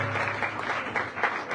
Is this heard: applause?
yes